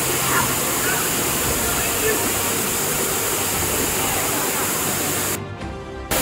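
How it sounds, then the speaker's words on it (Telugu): The Mahithapuram waterfall in Telangana roars loud and close as a steady broadband rush of falling water, briefly dropping out near the end before returning. "వాటర్ ఫాల్ ముందు ప్రశాంతంగా ఇక్కడైతే కూర్చున్నాం"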